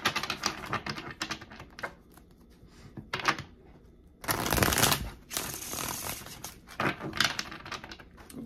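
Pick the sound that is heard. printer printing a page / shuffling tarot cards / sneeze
shuffling tarot cards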